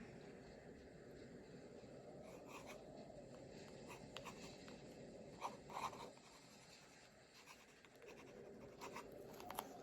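Handwriting in a journal, a faint continuous scratching of pen on paper with a few small taps and shuffles, heard close and quiet without talk.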